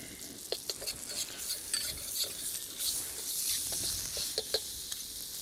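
Spices stirred into a sizzling frying pan of curry base, soft scraping and stirring strokes over a steady low frying hiss, close and quiet.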